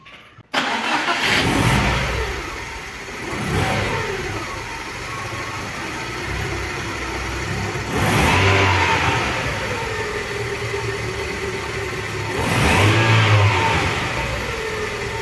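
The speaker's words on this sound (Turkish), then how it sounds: "Şimdi yolluyu bismillah deyip marşa basacağız." A car engine cranks and catches after its spark plugs are checked, then idles near and loud with three rising revs spaced several seconds apart, no talking.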